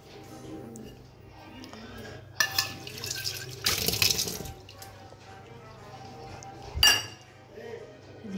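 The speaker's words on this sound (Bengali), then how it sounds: "আর এখন তুলতুলের খাবারটা বেড়ে নিচ্ছি।" Dishes and cutlery clink as food is dished out for a pet dog, with a couple of brief bursts of clatter and a running-water wash over a steady low background hum.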